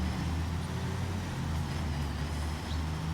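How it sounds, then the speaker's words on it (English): Truck driving in the video game Construction Simulator, a steady low diesel engine drone with rumbling road noise, close and continuous, with no talk over it. "Apologies. Truck coming through."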